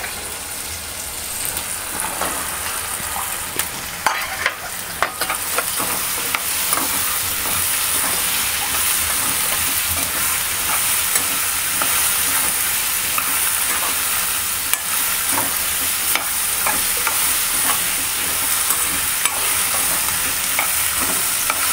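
Okra stir-fried in spiced oil in a pan, a loud continuous sizzle with clattering spatula scrapes and stirring knocks throughout, no talk.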